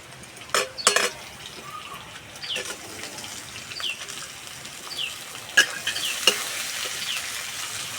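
Washed red lentils going into a pan of frying onions: a soft, continuous sizzle with a few sharp clatters and stirring knocks near the start and again later.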